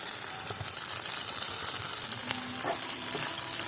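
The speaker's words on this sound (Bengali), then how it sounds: "চিংড়ি মাছ ভাজা হয়ে গেছে" Shrimp frying in soybean oil with chopped onion and fresh green chillies, a steady close sizzle and crackle with occasional stirring clinks, no talking.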